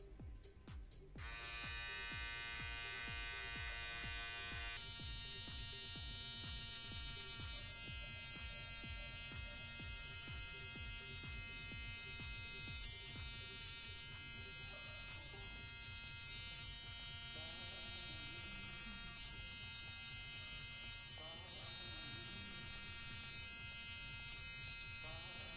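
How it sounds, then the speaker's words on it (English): Electric clippers buzz continuously and loudly up close, trimming and contouring a beard, a steady drone with small shifts in pitch as the blades move through the hair. "I do it by sucking in my cheeks a little bit and then going in with the clippers."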